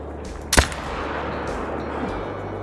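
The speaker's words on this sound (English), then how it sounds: "So let's change my zeroing to 300. And keep shooting." A single sharp rifle shot rings out in the hunting game Call of the Wild, loud and close, followed by a quiet outdoor ambience with a faint thump later.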